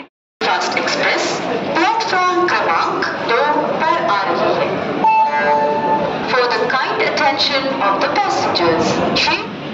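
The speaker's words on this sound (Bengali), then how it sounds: "এই যে পিছনে দাঁড়িয়ে আছে ট্রেন, এই ট্রেনে আমাদের আজকে যাত্রা শুরু হবে" Local train standing at platform 4 of Bardhaman station, bound for Howrah on the chord line, with a loud continuous platform din and a brief horn-like tone midway, heavily overlaid by a person talking throughout.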